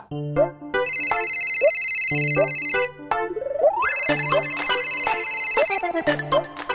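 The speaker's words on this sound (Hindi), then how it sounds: "रॉकी, फोन उठा" A telephone rings at home with a repeating electronic ringtone melody, a clear tinkling tune cycling several times at a steady pace, moderately loud with no talk over it.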